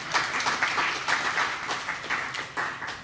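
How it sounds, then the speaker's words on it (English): Brief, fairly quiet applause from a summit audience, a patter of clapping swelling in a few uneven bursts over about three seconds. "round of applause."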